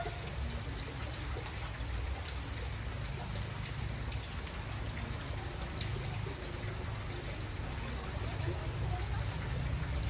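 Steady rain pours down on a rainy afternoon in the Vietnamese countryside, a dense continuous patter on surfaces at close range with no break throughout.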